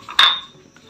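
Tea dishes and utensils clink in a village home kitchen, a single sharp metallic clatter that fades quickly, with faint handling noise after.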